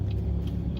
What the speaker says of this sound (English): Then there's a big city truck.